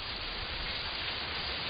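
Heavy rain falls in a steady, dense hiss that stays even and unbroken, with no voices over it.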